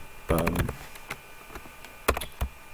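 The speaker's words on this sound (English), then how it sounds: "type in everything correctly and click send code" Typing on a computer keyboard with mouse clicks, close and fairly quiet, a burst of rapid keystrokes followed by scattered single taps and another short cluster near the end.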